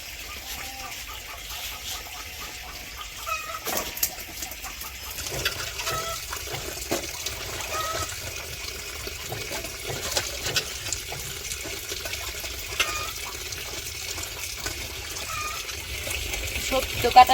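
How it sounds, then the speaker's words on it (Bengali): Cut greens and vegetables are rinsed under running water in a village kitchen, a soft continuous splashing with occasional louder bursts, while chickens cluck nearby and people talk. "সবজি তো কাটা শেষ, শাক আর সবজিগুলো ধুয়ে নিতেছি।"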